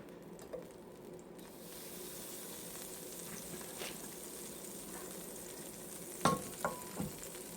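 Butter sizzling in a skillet, a quiet steady hiss that runs throughout, with a few clinks and scrapes from utensils near the end.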